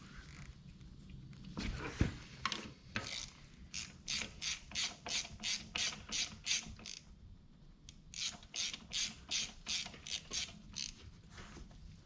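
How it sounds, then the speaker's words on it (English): A ratchet wrench works on a nut on the grease cylinder of a Kubota KX080-4 excavator's track tensioner, giving quick runs of sharp clicks close by at a steady pace, with short pauses between the bursts. "You loosen up that nut, and it'll drop all the grease out of that cylinder."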